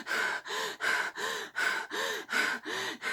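Heavy, rhythmic breathing from someone out of breath, with about eight loud, close gasping inhale-exhale cycles in steady succession and no other sound.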